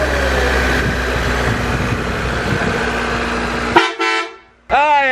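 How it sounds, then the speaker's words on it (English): A sedan on steel wheels idles loudly close by, then its harsh, loud horn blares in two short blasts near the end. "I absolutely love my obnoxiously annoying ass horn"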